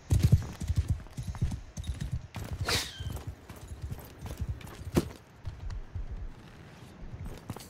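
Horses gallop in a Mount & Blade II: Bannerlord battle, a busy patter of hooves with an occasional neigh, moderately loud and continuous.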